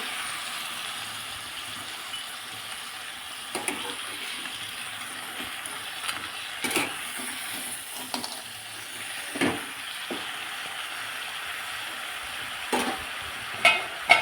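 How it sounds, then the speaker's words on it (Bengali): Spinach and lentil dumplings (bori) stirred in a pan make a soft continuous sizzle broken by repeated short scraping strokes of a spoon, growing sharper near the end, with no talking. "তার জন্য আমি বড়িগুলো এখন থেকেই দিয়ে দিয়ে আর একটু নাড়াচাড়া করে নিচ্ছি"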